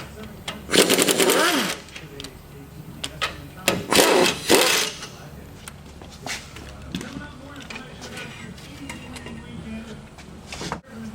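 An impact wrench zips brake caliper bolts loose during park brake shoe work, giving two loud rattling bursts close by. Quieter clanks of tools on parts follow, and someone talks throughout.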